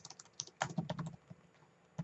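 Clicky keystrokes on a computer keyboard while an SQL query is typed, a short burst of quick taps followed by a pause and a final louder key press, close and clear with no talking.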